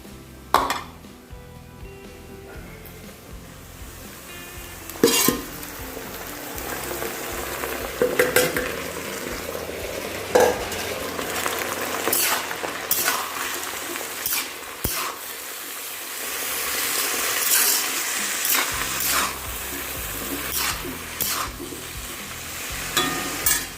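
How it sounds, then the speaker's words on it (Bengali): Boiled coconut palm pith frying with browned onions in a pan, a continuous sizzle with scattered clinks and scrapes of a spatula against the pot, close and moderately loud. "এখন আমি দিয়ে দেব সিদ্ধ করে রাখা ওই থুরগুলি।"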